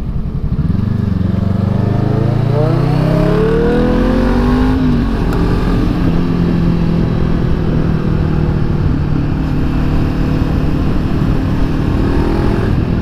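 A Jaguar F-Type sports car engine revs up hard with a rising, climbing pitch, then settles into a loud steady roar close by, with no talking.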